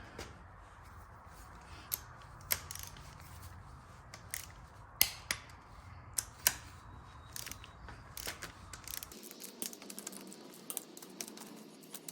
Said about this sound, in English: Now let's get the torque wrench. The manual says to torque the head bolts to 45 pounds.